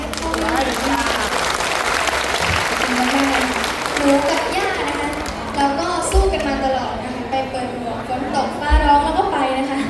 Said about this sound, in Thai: เสียงปรบมือเป็นกำลังใจ